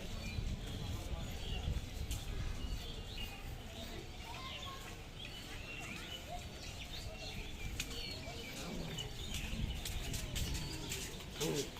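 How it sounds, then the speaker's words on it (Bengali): Pigeons in a garden coo softly and flap their wings in repeated bursts, with a voice talking over the birds throughout. "অনেকগুলো পাখি আছে, আপনার পায়রা আছে"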